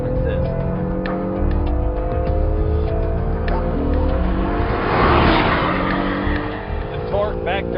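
A Bugatti Chiron on a hot lap around a track, its engine loud and close, rising and falling through gear changes with tire noise, while people talk over it inside the car.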